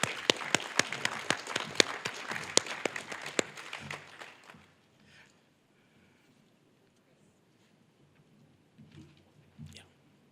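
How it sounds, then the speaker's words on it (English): Applause for Chloe at a college athletics end-of-year banquet: a burst of hand clapping for about four seconds that fades out, followed by near silence and faint room sounds. "One more round of applause for Chloe."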